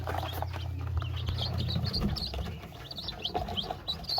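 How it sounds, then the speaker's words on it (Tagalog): Newly hatched Darag native chicken chicks peep in quick, high chirps scattered across the clip, close and fairly clear over a low hum that drops out partway through. "Yung bagong pisang sisiw natin"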